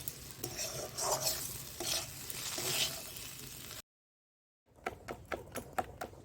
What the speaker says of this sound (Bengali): বেসনটাকে ফাটিয়ে নিচ্ছি